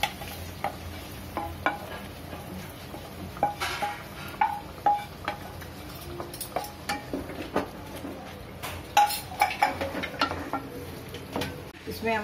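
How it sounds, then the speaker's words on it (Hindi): Green masala and fried ingredients being mixed in a pot for kardi pulao, a spoon scraping and clattering against the metal in irregular strokes over a faint sizzle, close and moderately loud, with a voice speaking at times. "अब इसे हम मिक्स करते हैं।"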